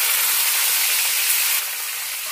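Chopped tomatoes hit hot oil with a bay leaf in a pan, a loud steady hiss of sizzling that eases slightly after a moment, with no talking.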